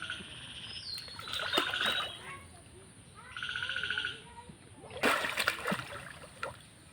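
A person ducks underwater while bathing, making splashes that come in a few separate bursts, close by, while voices talk and birds call in the background.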